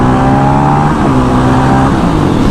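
A 2020 Honda CRF450L dirt bike ridden on a paved road, its engine loud and close. The pitch climbs steadily and drops with each gear shift, under heavy wind noise.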